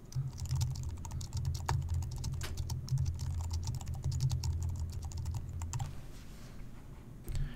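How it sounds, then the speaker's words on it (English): Steady clatter of keys as a comment is typed on a computer keyboard, rapid irregular clicks close and clear over a low hum, continuing for several seconds before easing off near the end. "So to add a new comment back to Brandon, we simply type into this field here."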